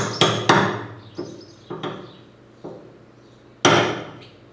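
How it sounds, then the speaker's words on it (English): Chisels hammered against a nub on a 1994 Ford F150 front fuel tank ring out in sharp metallic strikes, about six loud blows at uneven intervals, each followed by a brief decaying ring. "These chisels are just digging into that little nub on there."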